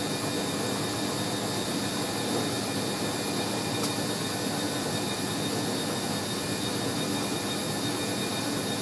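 A Hoover A3060 Electronic 1100 washing machine drum spins steadily at 500 RPM, giving a constant, even broadband whir and hum with no pauses or changes in pitch, heard close and alone.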